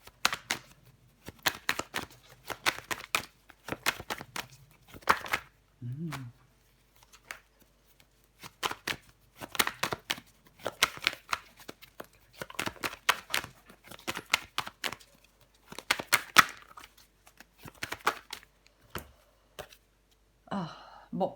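Tarot cards being shuffled, handled and laid down on a table during a reading, making quick clusters of crisp flicks and soft taps with brief pauses, close and quiet.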